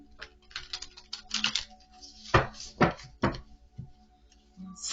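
A deck of tarot cards is shuffled by hand, close and quiet, in short riffling bursts and a few sharper slaps of cards, with no speech.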